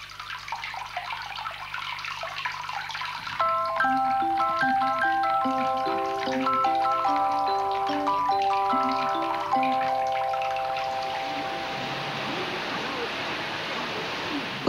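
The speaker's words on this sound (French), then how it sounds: "il est temps de se plonger dans la baignoire" Water pours steadily into a bathtub in Japan, a continuous rushing wash heard throughout, with a melodic tune of plucked notes playing over it for most of the stretch.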